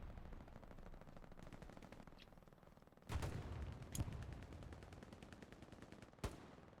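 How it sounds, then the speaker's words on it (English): Far-off gunfire in Hell Let Loose crackles faintly, with a few sharper distant shots standing out above a low, steady background of the battlefield. "I can hear shots from there"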